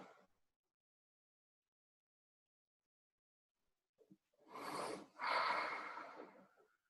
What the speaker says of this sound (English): allow yourself to take a few more deep breaths